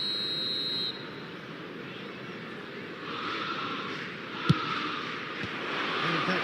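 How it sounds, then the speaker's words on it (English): A referee's whistle sounds in a football video game, a brief high shrill blast at the start, followed by faint crowd and stadium ambience with a single sharp thump later. "The referee looks at his watch and blows his whistle."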